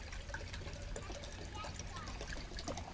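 Cold tap water pours into a beaker as a steady trickling stream, close, under a low background rumble.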